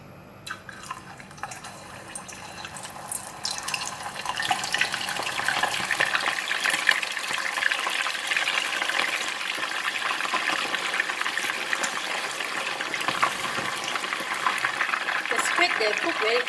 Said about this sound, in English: In the hot oil, I'm going to put in the squid.